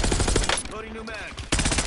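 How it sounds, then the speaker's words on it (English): Rapid automatic gunfire in a Call of Duty match, close and loud bursts at the start and end with a short lull between. "Who is that that keeps shooting at me out of nowhere?"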